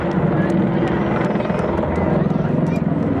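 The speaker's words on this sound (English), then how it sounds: "there they go, pointing down, gaining airspeed, and turning the aircraft more than 360 degrees" Jet aircraft roaring continuously as an aerobatic display team dives and rolls through a full turn at an air show, a loud steady engine rush with commentary over it.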